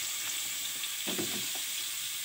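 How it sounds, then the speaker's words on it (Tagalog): Milkfish sautés in margarine with a faint, steady sizzling hiss, broken by one slightly louder spatter partway through. "Lagyan natin igisa natin siya sa margarine."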